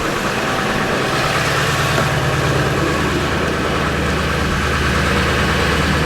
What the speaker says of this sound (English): I'm gonna give her a little high idle